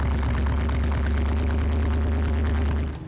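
A Lamborghini Aventador's naturally aspirated 6.5-liter V12 rumbles close and loud with a deep, steady throb, holding an even idle-like drone before easing off at the very end.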